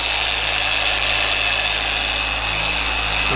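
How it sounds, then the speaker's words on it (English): A dual action polisher with Menzerna compound works over the paint of an Audi RS5, giving a loud, continuous motor whir and buzzing hum close by, steady from start to finish with no speech. "So I switched over to a dual action polisher, still with Menzerna,"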